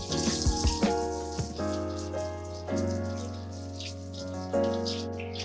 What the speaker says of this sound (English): I'm going to run it under some cold water